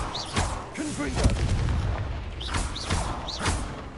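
A Confringo blasting spell is cast repeatedly in Hogwarts Legacy, several booming blasts with whooshing, swooping tones, mixed with a continuous loud rumbling bed and a brief voice.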